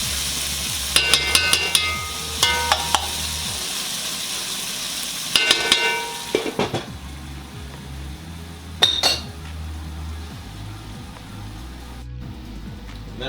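Sausages and sauce simmering in a pan give a soft, steady sizzle, interrupted by several sharp clinks and scrapes of a utensil stirring against the pan.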